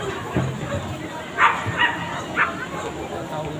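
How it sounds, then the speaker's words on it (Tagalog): A few sharp dog barks ring out over a busy crowd of chatter at Bonifacio High Street, three quick yaps spaced about a second apart, moderately close. "Ang lakas ng boses ng isang aso."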